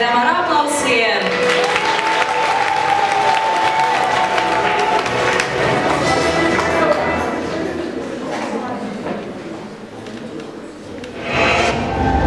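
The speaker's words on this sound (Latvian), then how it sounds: "Sagaidām ar aplausiem!" A talent contest audience applauds steadily, a thick wash of clapping with some cheering, while a loud voice talks over it and music begins near the end.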